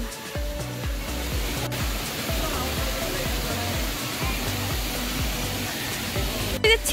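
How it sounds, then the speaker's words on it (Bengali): Loud, steady rushing of a waterfall in Sikkim roars without pause, a dense broadband wash close by. "ঝর্ণার আওয়াজ"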